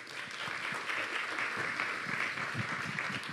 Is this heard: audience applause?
yes